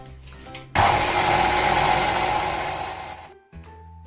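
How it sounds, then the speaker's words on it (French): An electric mixer starts up loudly and whirs steadily for nearly three seconds while mixing bread dough for Turkish pide, then cuts off abruptly. Quiet room noise comes before and after. "Et on va commencer à mélanger et rajouter la farine petit à petit."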